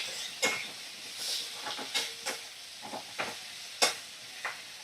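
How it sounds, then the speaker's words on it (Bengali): Chopped tomato fries in a pan on a medium flame as it is stirred. Soft sizzling sits under intermittent scraping stir strokes, quiet and close. "কুচনো টমেটো দিয়ে 2 মিনিট ভালো করে আমি নাড়াচাড়া করে নেব।"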